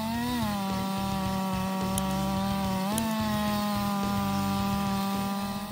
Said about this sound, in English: sawing off large diameter logs becomes not difficult at all